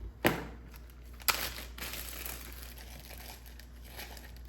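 Plastic Ziploc bag handled close up in a kitchen, two sharp crinkles followed by softer rustling and crackling that fades out, with no talking.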